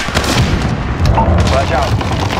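Heavy combat in a realistic PS5 shooter set during a terrorist attack on an American embassy, with an RPG missile launch and explosion folding into a loud, continuous roar of gunfire and booming blasts, with voices shouting underneath.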